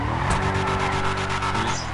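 Race cars skid and rev through a GTA 5 stunt rally race, engines droning loudly and steadily with rhythmic tire scrubbing and a sharp skid burst near the start, no voices.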